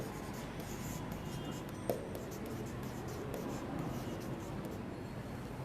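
Steady scratching of a pen or chalk writing notes during a Bengali science class, continuous and close, with a single brief tap near the two-second mark and no talk.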